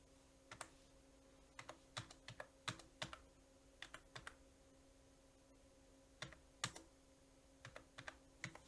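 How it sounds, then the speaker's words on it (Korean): A run of thirteen digits typed on a computer keyboard, with crisp key clicks in short bursts separated by pauses, quiet and close, no voices. "그럼 한번 써볼게요."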